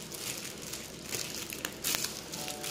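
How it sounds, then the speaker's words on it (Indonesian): Plastic bubble wrap around a new Canon EOS M50 camera crinkles and rustles up close, a busy stream of crackles with a few sharper bursts near the end. "ini yang masih plastik bubble-bubble ya."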